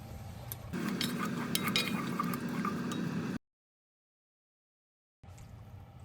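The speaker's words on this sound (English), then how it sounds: "now you're adding your tomato sauce and or marinara" Tomato sauce or marinara is added to a cooking pot, giving wet pouring and clinking sounds for a few seconds, then a gap of silence before the noise resumes.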